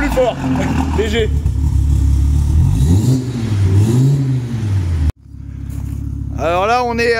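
Audi TTRS 500+ with its exhaust valves closed, revving close by. A loud, steady engine drone rises and falls for about five seconds, then cuts off abruptly before talking starts.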